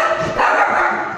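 Dogs barking at a distance from outside, a few rough barks running through a short stretch over a steady background hum while collard greens are prepared in a kitchen in Kwekwe, Zimbabwe.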